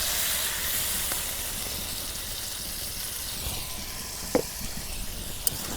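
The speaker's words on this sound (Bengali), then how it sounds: "এই দেখো তরকারি কষানো বানিয়ে অল্প পানি দিয়ে দিই।" Water poured into a pan of rohu fish curry with eggplant and tomato sets off a steady, close hiss and sizzle, with a few sharp clinks of the pan near the end.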